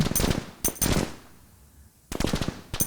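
Machine gun fire from the war strategy game Army Commander comes in dense, loud rapid bursts: two near the start, a quiet gap, then a long burst and a final one toward the end.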